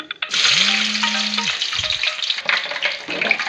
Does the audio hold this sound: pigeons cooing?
no